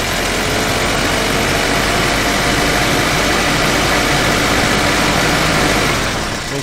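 A car engine is held at a raised, steady 2,500 RPM during a battery charging test, a loud continuous drone close by that eases off slightly at the very end.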